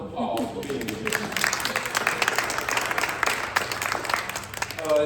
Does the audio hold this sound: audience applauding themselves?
yes